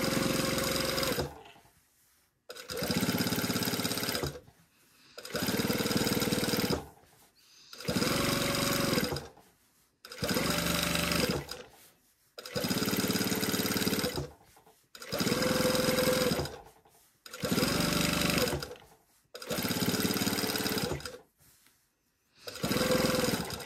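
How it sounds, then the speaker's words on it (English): A sewing machine stitches a seam allowance to the waistband facing of a pair of pants, running in about ten steady bursts of several seconds each, separated by short pauses, close and loud with no talk. "I'm sewing the seam allowance to the facing"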